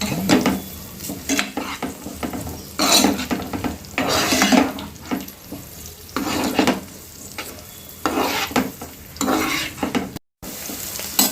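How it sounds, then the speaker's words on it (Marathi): Carrots and bell pepper fry in a pan for a breakfast vermicelli upma, with steady sizzling under repeated scraping and clinking as a utensil stirs against the metal, close and continuous throughout. "गाजर आणि शिमला मिरची टाकूया आणि ते पण चांगले थोडे फ्राय करून घेऊया।"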